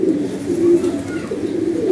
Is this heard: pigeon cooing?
yes